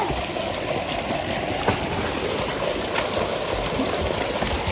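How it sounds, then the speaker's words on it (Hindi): Water gushing from a large farm tubewell in Amroha forms a steady, loud, even rush with no break and no voices. "ये हमारी ट्यूबवेल है पानी, इसमें नहाएंगे हम लोग"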